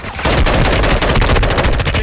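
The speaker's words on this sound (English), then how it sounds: "Taking effective fire." Call of Duty gunfire, a loud, continuous rapid automatic burst with dense, evenly spaced shots that start abruptly and keep going.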